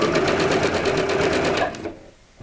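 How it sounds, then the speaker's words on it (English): Sewing machine back stitching a scrunchie, its needle hammering in a fast even rhythm close by for under two seconds before it stops abruptly. "We're gonna back stitch again."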